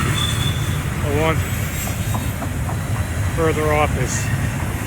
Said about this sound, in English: Two stack trains. The one closest to us is eastbound.